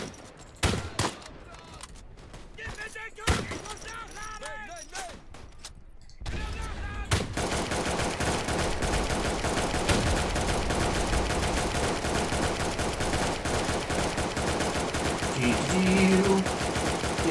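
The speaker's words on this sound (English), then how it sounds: "I'm hiding next to a machine gun" Dense, continuous machine-gun fire in the WWI shooter Tannenberg erupts loudly after about six seconds of quieter game sounds and talk, then hammers on without pause to the end.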